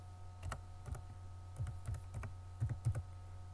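Keystrokes on a computer keyboard while Python commands are entered, coming as short separate clicks and brief bursts of two or three taps, close and fairly quiet over a steady low hum.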